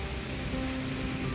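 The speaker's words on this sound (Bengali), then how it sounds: "মা বৃষ্টি পড়ছে" Rain falling steadily outdoors during a thunderstorm, a dense, even wash of noise that stays constant and fairly loud with no individual drops standing out.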